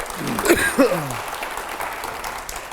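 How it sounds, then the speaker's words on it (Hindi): Studio audience applause on a TV debate show, steady clapping that starts under a speaking voice and carries on alone, fairly even in loudness. "जोरदार तालियां हो पहले"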